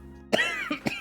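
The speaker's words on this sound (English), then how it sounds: "I made myself cough." A single person's cough, a sharp burst followed by two shorter coughs close to the mic, alone without other speech.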